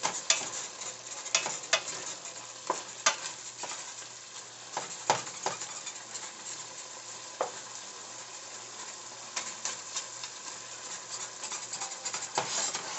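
Meat sizzles steadily in a pan while a utensil scrapes and stirs it in sporadic sharp clicks and scuffs, close and fairly quiet.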